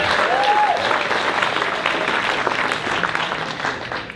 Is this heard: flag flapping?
no